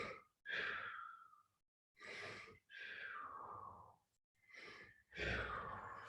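Slow, deep breaths during a stretching exercise in a self-healing class: long audible inhales and exhales, each lasting one to two seconds, close and soft, with no talking.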